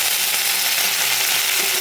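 Beans, onion stalks and other vegetables fry in a pan for a dried fish chorchori, giving a loud, dense, unbroken hiss of oil close by.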